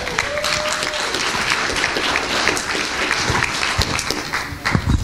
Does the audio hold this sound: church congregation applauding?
yes